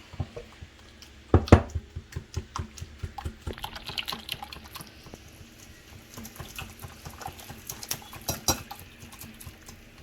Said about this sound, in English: So what we're gonna do now is give it a quick stir.